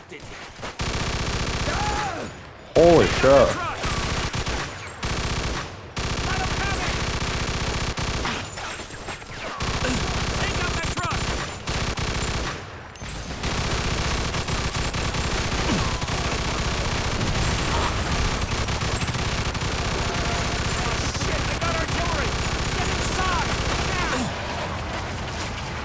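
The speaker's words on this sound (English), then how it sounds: "Get on that machine gun." Machine gun fire in Mafia II rattles in long sustained bursts, loud and dense, broken by brief gaps, while someone shouts and swears over it.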